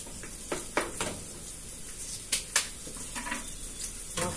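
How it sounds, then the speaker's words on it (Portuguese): Garlic and onion sautéing in olive oil give a steady close sizzle, with several louder crackling bursts and a few stirring scrapes in the pan. "Aqui é o alho e a cebola. Um pouquinho de azeite. E agora eu vou refogar, tá vendo?"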